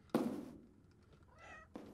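A cat meows in the Led Astray video game: a short mewing call sits between two dull thunks, all fairly faint against a quiet background.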